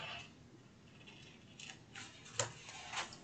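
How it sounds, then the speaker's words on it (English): Scissors snip along the edges of a paper napkin to trim away the excess overhang at a craft table, giving a few quiet, crisp cuts that grow in the second half, with no talk. "So then I'm just going to take my scissors."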